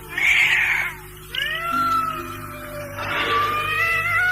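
Late at night, at two in the morning, a cat gives loud, drawn-out meows and yowls close by, several wailing calls in a row in a radio drama scene at an old house.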